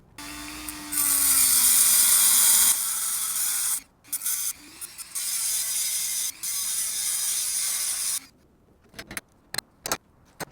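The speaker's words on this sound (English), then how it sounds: "So I am going to cut about a quarter of the wheel stud in that direction and then spin it around" A power tool cuts through a steel wheel stud in loud bursts of high, grinding screech, stopping and restarting several times before a few short clanks and knocks near the end.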